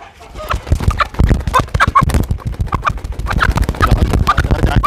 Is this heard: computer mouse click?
no